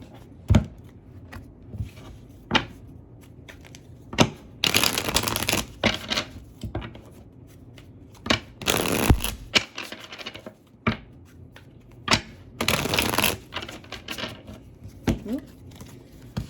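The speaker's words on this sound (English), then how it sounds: "let's pull cards" Tarot cards are shuffled in bursts of riffling and slapping, with sharp taps and short handling noises between the bursts, close and fairly loud.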